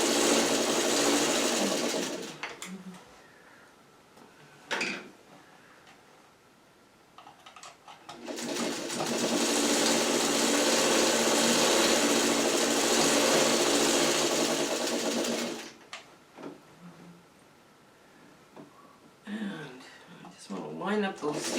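Sewing machine stitching oversized four-patch quilt blocks runs in steady whirring bursts, a short one first and then a long sustained run, separated by quieter gaps where a person talks.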